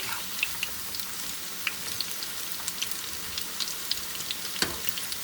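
Onion pakoras sizzle steadily in hot oil while being turned, with a continuous bubbling crackle and a few sharper pops and spits, close and alone with no talking.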